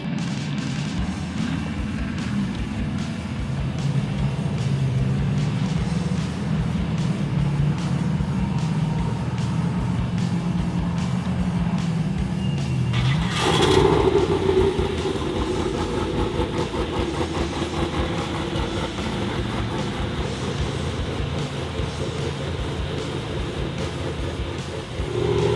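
A car heading out for test loops after suspension work: steady engine and road noise rumbling throughout, with a brief louder thump midway, no talk.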